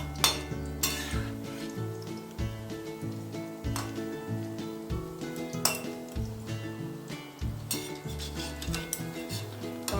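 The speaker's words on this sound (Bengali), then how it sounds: "কলার বড়া একটু লাল লাল করেই ভাজতে হয়" Ripe banana fritters deep-frying in hot oil, with a continuous bubbling sizzle under repeated clinks and scrapes of a utensil against the pan.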